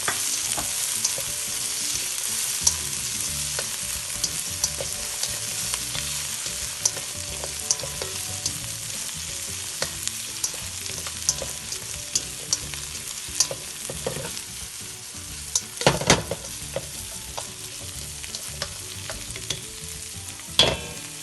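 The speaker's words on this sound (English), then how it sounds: "And now we're slowly adding in the peas. And mixing that up." Peas stir-fried in a hot pan for Hakka noodles, a steady close sizzle with scraping and clinking of the spatula throughout and a few sharper bursts near the end, no voices.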